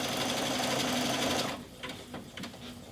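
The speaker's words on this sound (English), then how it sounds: "and it stops sewing exactly where I told it to" A Baby Lock Altair 2 sewing machine stitching fabric, a close, loud, steady whirring hum for about a second and a half that then stops, followed by a few soft mechanical clicks and taps.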